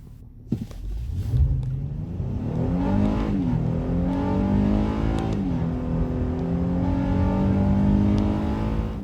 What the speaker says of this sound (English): Acceleration are really strong with that V6 power, and you can hear the VTEC kick in